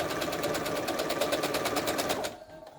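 A sewing machine stitches stretched crochet fabric in a fast, even rhythmic chatter of needle strokes, fairly quiet and close, stopping just before the end.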